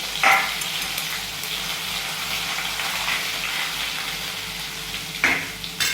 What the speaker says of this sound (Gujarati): પછી નાખી દઈએ લીમડો સૂકા મરચાં અને હવે આપણે લસણ ને આદુ એ ખાંડીને રાખ્યા હતા એ આપણે નાખી દઈએ